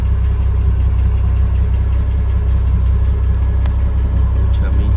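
A 1999 VW Gol Special with a 1.0 gasoline engine idles, heard close at the exhaust tailpipe as a loud, steady low-pitched burble with an even pulsing rhythm and no talking.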